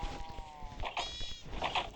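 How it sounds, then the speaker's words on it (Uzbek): Small sheep in a survival video game bleat several times in quick succession, short wavering cries heard close and moderately loud with no talking. "mana tomonda kichkina qo'ylar."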